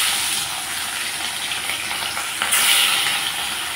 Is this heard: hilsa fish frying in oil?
yes